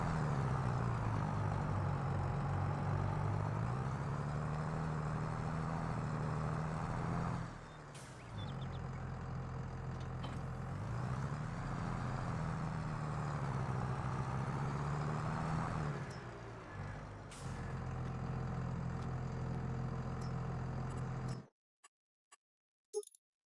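A farm tractor in Farming Simulator 22 drones steadily with a low engine hum as it climbs a hill, easing slightly twice before cutting off into near silence with a few faint clicks.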